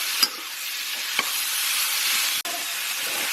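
Thai pork belly fries in a hot pan with a dense, steady sizzle broken by a few sharp crackles and pops. There is no talking.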